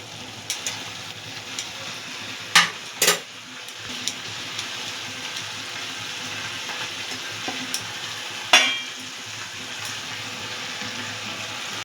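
Beaten egg being stirred and mixed in a cooking pan over low heat for potato and egg phulori, a soft scraping stir with a gentle sizzle and a few sharp clinks of the utensil against the pan.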